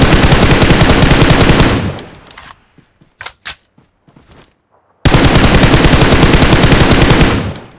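Automatic gunfire bursts loud in the BGMI video game, a sustained rapid rattle, a pause with scattered shots and clicks, then another long burst.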